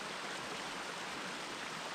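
Steady broadband rush of water pouring down Hidden Falls on a hike, a continuous even roar heard close with no talking.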